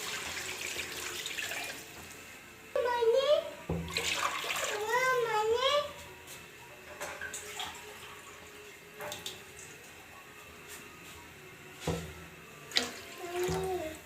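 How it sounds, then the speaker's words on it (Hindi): Water runs and splashes steadily into a cooking pot of lentils and rice, with a voice chiming in briefly and faint kitchen clatter in the background. "अब मैं इसमें पानी डाल दूंगी।"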